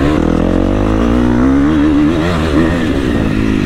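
A motocross motorcycle engine revs hard on a dirt track, loud and close, its pitch wavering up and down as the throttle opens and closes over bumps, continuous for the whole stretch.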